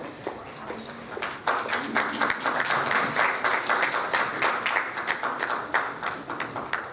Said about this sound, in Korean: 과장님을 큰 박수로 모시기 바랍니다